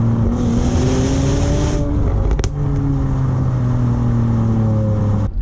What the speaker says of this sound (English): I love the sound of that exhaust